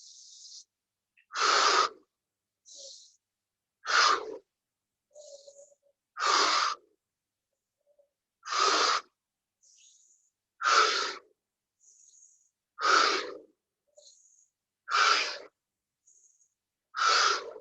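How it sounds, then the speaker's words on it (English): Deep rhythmic breaths during a yoga session, about eight strong forceful exhales through the mouth spaced roughly two seconds apart, with softer inhales between them, close and clear with no talking. "Keep breathing like this."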